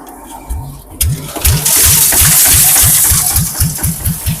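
An engine-powered grinder grinding horse medicine powder, a close, loud motor chugging in a steady rapid rhythm of repeated thumps under a hissing whir.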